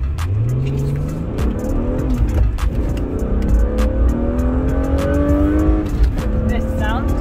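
A 1998 BMW E36 M3 revs up through the gears while driving, its engine note rising and dropping repeatedly, loud and close, with people talking over it.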